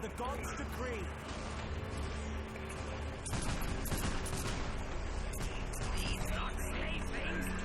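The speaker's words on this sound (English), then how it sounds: "beautiful hit by our cannon there." Cannon fire and dense battlefield gunfire from the fantasy battle strategy game Mark of Chaos, a continuous loud din of shots and booms with a heavier impact surge around the middle, a voice speaking over it.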